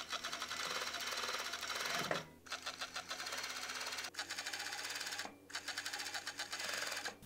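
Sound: sewing machine stitching a T-shirt hem

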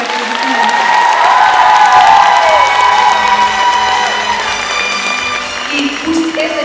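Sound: loud applause from audience

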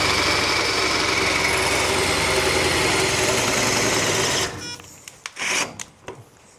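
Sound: drill bit boring into steel

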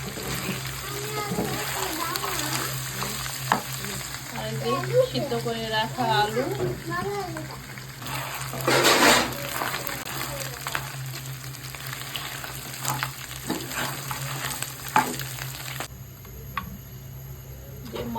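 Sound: fish heads frying in a pan

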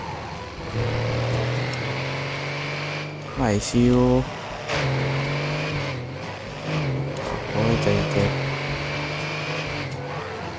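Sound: Toyota TFR pickup truck engine revving, from a video game (Monster Town)

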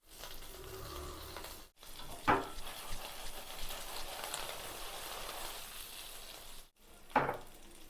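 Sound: eggplant (brinjal) pieces frying in hot oil in a kadai

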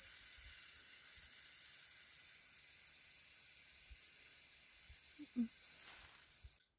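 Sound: gas pepper spray canister spraying

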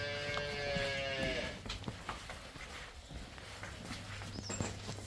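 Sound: cows

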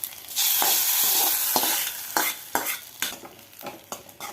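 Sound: tempering mustard seeds and curry leaves in coconut oil

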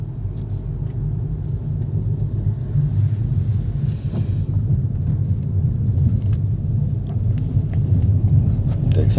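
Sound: Hyundai Nios car moving off as the clutch is released

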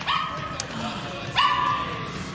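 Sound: dog barking in a film scene

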